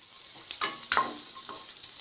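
Sliced onion sautés with ginger and garlic in a pan for spicy egg noodles, a soft sizzle with a few quick clinks and scrapes of stirring, close by and fairly quiet, no voices.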